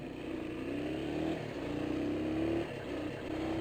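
A small motorcycle engine revs steadily with its choke engaged, a continuous close, loud droning hum that rises and falls slightly in pitch.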